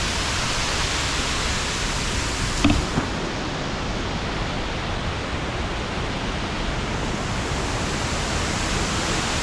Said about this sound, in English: It sounds like it's a lot of water.